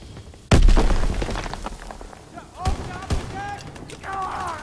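Improvised explosives detonating in the video game Call of Duty: WWII, one sharp loud blast followed by scattered gunfire and a few smaller booms, with voices calling out in the background.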